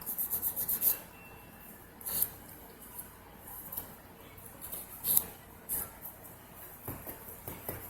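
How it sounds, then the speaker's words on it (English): A nail buffer rubs the shine off a fingernail while applying Mia Secret nails, giving soft, repeated rasping strokes, with a quicker run of strokes at the start and scattered scuffs after, quiet and close with no talking. "So I am just buffing all the shine off of the nail."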